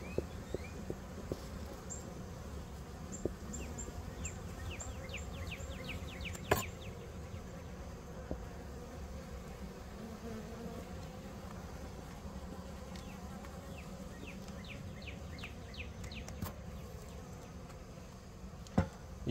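Honey bees buzz busily around a hive during a package installation, a dense steady drone with many individual bees whining past nearby and a couple of sharp knocks.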